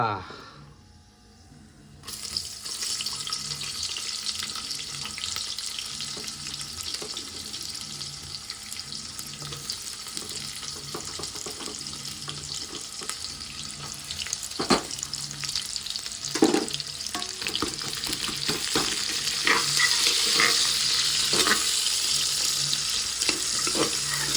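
Onion fries with whole spices in a pan for mutton paya, a loud continuous sizzling hiss with sharp crackles that grows stronger toward the end. Someone talks intermittently underneath.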